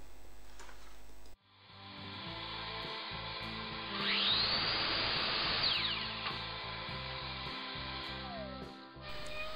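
A miter saw spins up, bites through wood for a window frame corner with a rising whine for a few seconds, then winds down and stops.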